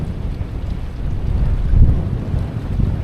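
Strong wind of roughly 15 to 20 knots blows over a small boat out fishing near Karratha, making a loud, low, continuous buffeting roar across the microphone that swells briefly midway, with no talking.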